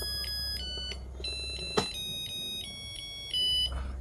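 A Zojirushi rice cooker chimes its short electronic melody of high, clear beeping tones after a repair of a fault from being plugged into 220 V, with a sharp click partway through, heard close and fairly quiet with no talking.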